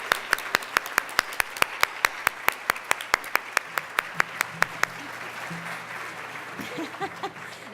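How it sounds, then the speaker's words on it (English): At a women's day breakfast event, a few sharp, evenly spaced claps ring out close by over a softer spread of applause, the strong hits stopping after about five seconds while murmuring crowd noise carries on. "Let's give them a round of applause."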